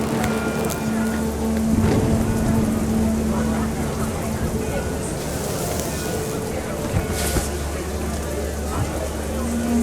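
Heavy rain in the video game What Remains of Edith Finch pours down in a dense, steady hiss, close and constant throughout, with a low rumble underneath.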